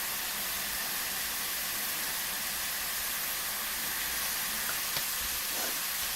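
Shallots drop into a hot pan alongside seared steak and shrimp, giving a steady, close frying hiss that stays even throughout with a few faint pops.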